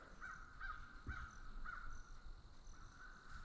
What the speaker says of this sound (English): crow's yelling at us.